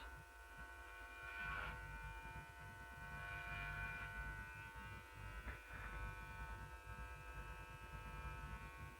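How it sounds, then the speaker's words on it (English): Electric hair clippers buzz steadily while cutting dry hair around the ear, a close, continuous hum with slight changes in pitch as the blades move and no one speaking. "when cutting around the ear, it's always important to hold the ear forward and run your clipper up and out."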